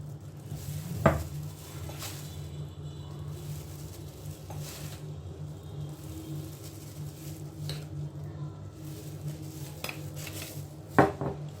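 Chicken wings are turned in a bowl coated with egg and starch, giving soft wet squishing and low scraping, with a couple of sharp clinks from a utensil striking the dish near the start and end.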